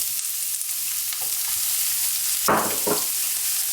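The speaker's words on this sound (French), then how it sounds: "Dans ma poêle, je verse donc l'huile d'olive, donc très peu. Ensuite, je mets donc les oignons" Onions frying in a little olive oil in a pan, a steady close sizzle with a couple of louder crackling bursts of stirring near the end.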